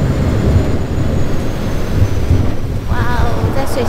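A seaplane touches down on water near Dry Tortugas, a loud, steady roar of engine and rushing spray filling the whole stretch without a break.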